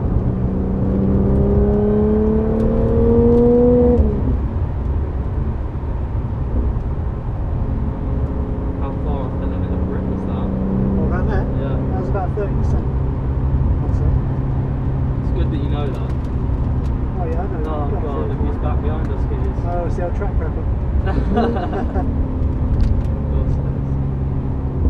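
An Audi B8 S4 tuned to 490 PS laps the Donington National circuit, its engine droning steadily throughout with rising revs at the start and shifting pitch through the lap, while people talk over it.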